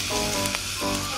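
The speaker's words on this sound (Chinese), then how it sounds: "我们再把刚刚已经煎到七分熟的鸡腿肉放下去" Chicken thigh meat, already seared most of the way, frying in a pan with tomato and pineapple gives a steady, dense sizzle throughout, close and even, with no talking.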